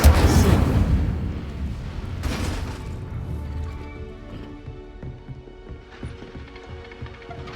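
Spell casting in Hogwarts Legacy on Xbox Series S: a loud magical boom and burst at the start, another whooshing impact around two seconds, then softer mechanical clanks and tonal game effects continuing with no speech.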